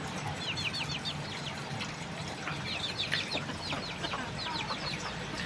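Five-month-old red junglefowl decoy chickens cluck and chatter steadily over a constant outdoor background, several birds calling at once at moderate distance.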